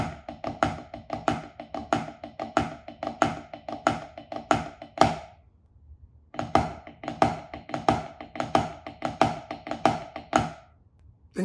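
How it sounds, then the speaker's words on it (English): A snare drum plays flam accent rudiments over and over in a steady, driving pattern of grace-note flams and accented strokes, close and crisp, with one short pause midway before the pattern resumes. No one speaks. "So you could practice the Flam acute repeating,"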